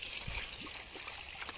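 Irrigation water trickles faintly through a channel in an onion field, with a soft, steady dribble and a few quiet gurgles over a brief moment.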